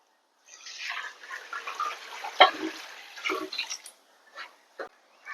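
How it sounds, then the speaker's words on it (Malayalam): Water splashes and gurgles as it is poured by the glassful into a pot for beef biryani, a steady pour with a few sharp clinks and drips trailing off at the end. "നമ്മൾ വെള്ളം ഒഴിച്ചു കൊടുക്കാം വെള്ളം ഒഴിച്ചു കൊടുക്കുവാണേ"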